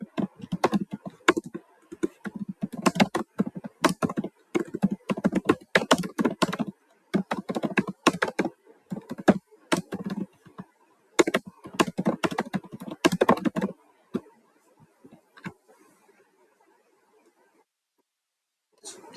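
Fingers type on a computer keyboard in quick, irregular bursts of close, crisp key clicks, with brief pauses between runs and the tapping thinning out to near silence at the end.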